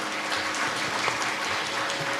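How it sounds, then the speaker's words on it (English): An audience claps at a Bharatanatyam arangetram dance recital after an opening dance, the applause steady and fairly soft, heard from a distance across the hall. "Let's have another round of applause for Valli."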